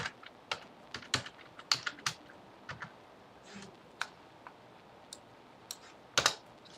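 Typing on a computer keyboard while entering search terms: scattered, fairly quiet keystroke clicks at an uneven pace, with a few quick bursts of taps and pauses in between.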